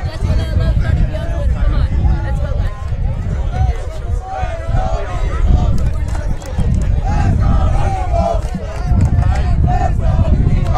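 A large crowd of high school students fills the air at a walkout protest at Tulsa's Edison High School, a dense, continuous roar of chatter, shouts and cheers close around throughout.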